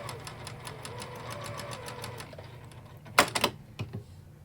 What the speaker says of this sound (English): we just need to sew that between our two background rectangles with a 1/4 inch seam